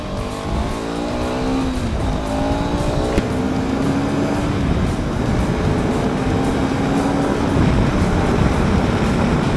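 KTM 390 Adventure motorcycle ridden off-road, engine droning and rising through the gears with steady wind and road rumble, close and continuous throughout.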